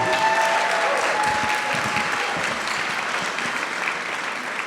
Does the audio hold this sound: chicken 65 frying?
no